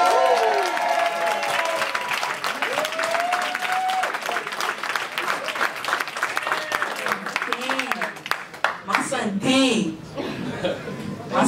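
Audience at a Healing Justice Friday night event applauds and cheers for a performer, a sustained wash of clapping and whoops mixed with laughter and overlapping voices throughout.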